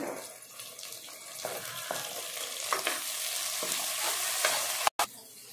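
Onions, green chillies and tomato fry in oil in a pan with a dense, hissing sizzle that swells as stirring scrapes through it, close and continuous before a brief cut near the end.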